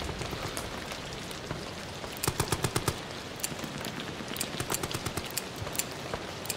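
Rapid bursts of automatic gunfire in the horror game Amnesia: The Bunker, a tight volley of sharp cracks followed by scattered shots over a steady rain-like background hiss, with no talking.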